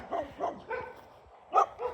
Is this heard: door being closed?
no